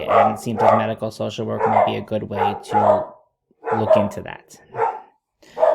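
A pet dog barks and yips in short bursts in a home, heard beneath and between a woman's continuous speech.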